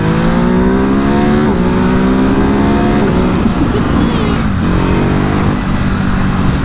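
A Ducati Hypermotard 950 SP motorcycle pulls out of a second-gear corner on a road, its engine rising in pitch through a couple of quick shifts, loud and close under heavy wind rush.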